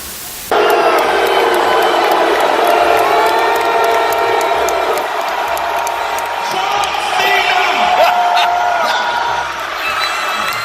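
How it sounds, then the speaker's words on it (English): A large arena crowd at a WWE Raw event in Seattle roars loudly and steadily, a dense wall of sustained jeering and shouting that stays full-volume from start to finish. "7 minutes of solid booing."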